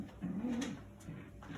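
A pure Alphonse Klaus breeding pigeon gives a soft, low, rising coo, close and fairly quiet, followed by a fainter second murmur with no speech over it.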